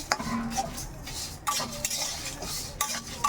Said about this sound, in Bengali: তো তোমরা দেখতে পাচ্ছ আমি ভালো করে নেড়ে চেড়ে করে নাম করাবো।